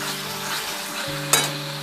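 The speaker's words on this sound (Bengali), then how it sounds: "এবার এটাকে কষতে থাকবো। দেখুন আমি অল্প সামান্য একটু কসুরি মেথি দিয়ে দিলাম" Masala with a pinch of kasuri methi stir-fries in oil for a fish-roe bora curry, a close, steady sizzle with a brief sharp scrape of the spatula near the end.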